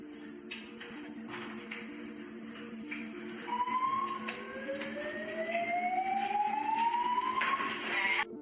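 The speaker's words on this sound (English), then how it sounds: "Wait, now the fire alarm goes off" A fire alarm sounds in police body-camera footage, a distant electronic siren-like wail with rising sweeping tones repeating over a steady background hum, moderately faint and continuous.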